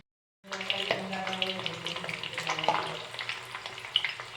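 Water poured into a cauliflower masala mix for dry gobi in a home kitchen makes a steady wet splashing and sizzling rush that starts abruptly and continues at close range.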